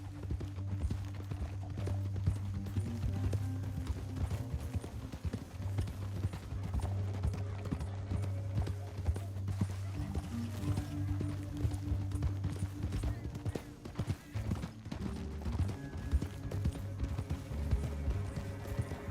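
Horse hooves clip-clop steadily and continuously at a brisk trotting rhythm, layered over a low, droning background, in the video game Red Dead Redemption 2.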